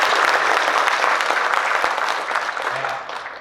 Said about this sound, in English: Let's give Cabot a round of applause.